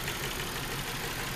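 A car engine idles while warming up during a heater core flush, a dense, steady mechanical drone heard close and alone with no breaks.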